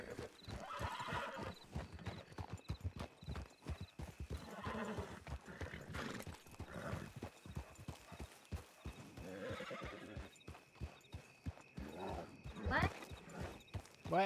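Horse hooves clip-clop steadily in the Red Dead video game, with a horse neighing at moments; people talk over the hoofbeats throughout.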